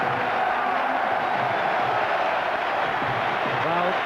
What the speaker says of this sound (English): it's a huge applause